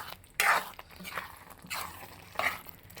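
Mixed vegetables are stirred through hot masala paste in a pan for a vegetable kurma, heard as several short scraping, wet stirring strokes with soft sizzling between them.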